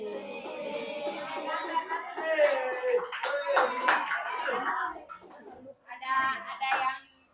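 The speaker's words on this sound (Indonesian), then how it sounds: "Tepuk tangan untuk kelompok 1." Classroom applause for the first student group, with scattered hand clapping rising under a teacher's voice and children talking, then a short louder burst of claps near the end.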